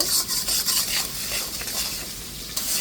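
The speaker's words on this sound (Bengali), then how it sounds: "এখন আমি একটু নেড়ে ছেড়ে নিচ্ছি" A spoon keeps scraping and stirring spice masala around a hot pan, giving a rough, rasping sizzle, close and loud. The sound runs continuously, with small clanks against the metal, and no one speaks.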